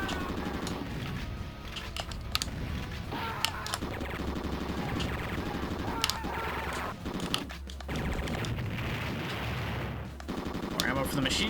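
Machine-gun fire in the run-and-gun video game Commando: Steel Disaster: bursts of rapid gunshots and other game effects over busy background music, loud and continuous throughout.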